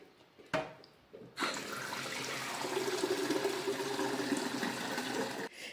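A kettle fills from a kitchen tap: a click, then a steady, close rush of running water lasting several seconds before it stops.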